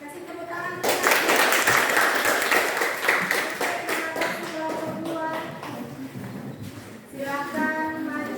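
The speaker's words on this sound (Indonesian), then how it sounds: "Kasih tepuk tangan." Classroom students clap their hands after a group presentation, a dense, lively burst of clapping that runs throughout, mixed with children's chatter and voices.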